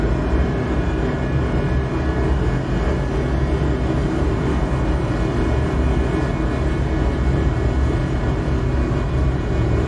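Twin jet engines of a Learjet 35A spooling on the takeoff roll in a flight simulator, a loud, steady, unbroken roar and whine throughout with no talk.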